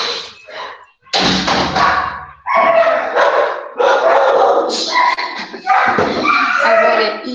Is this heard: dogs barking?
yes